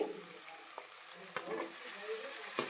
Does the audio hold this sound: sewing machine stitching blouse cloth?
no